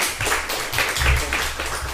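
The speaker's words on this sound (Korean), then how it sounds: "다시 한 번 더 큰 박수 부탁드리겠습니다" A lecture audience gives applause after a talk, a close, fairly loud patter of clapping hands with some low rumble underneath, carrying steadily through the moment.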